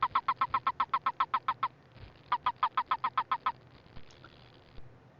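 A single male western toad gives a rapid series of soft peeping notes, about a dozen evenly spaced, then a short pause and another similar run, close and clear.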